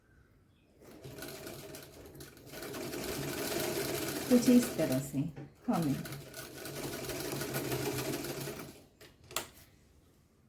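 Double stitching on Afghani-style pants comes from a sewing machine running in two long bursts with a short stop between, loud and close, then a few clicks at the end; someone speaks briefly during it.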